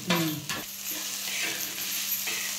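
Green chili and salt sauté in a hot pan with a steady sizzle and frying hiss, broken by a few clanking stirs of a spatula; no voices are heard.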